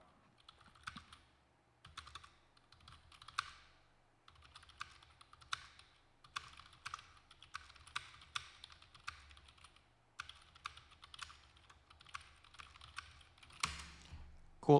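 Typing on a computer keyboard during live trading, quick bursts of close, crisp key clicks in uneven runs with short pauses, fairly quiet and alone.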